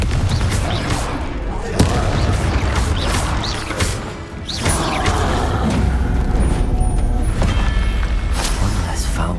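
Explosive Confringo spell blasts in Hogwarts Legacy combat, loud bursts and booms within a dense mix of other spell effects and crashes, with voices calling out over the fighting.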